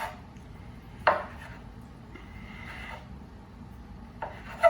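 A knife slicing folded spinach pasta dough into tagliatelle on a board, heard as a few soft, sparse cutting taps and light scraping strokes, quiet and close with no talk.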